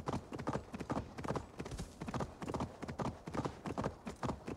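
Quick, rhythmic hoofbeats of a galloping horse in Assassin's Creed Valhalla pound along steadily and fairly loud, each stride a cluster of sharp thuds repeating without pause.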